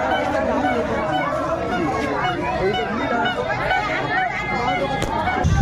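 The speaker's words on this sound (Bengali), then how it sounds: "তো মেলার ভিড়টা দেখো" A dense crowd at a village fair the day after rain fills the air with a steady babble of many overlapping voices and nearby chatter, continuous and close throughout.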